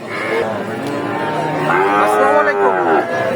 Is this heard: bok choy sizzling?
no